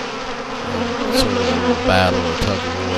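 Several honeybees buzz steadily up close at a sugar syrup feeder, a continuous droning hum with someone talking over it.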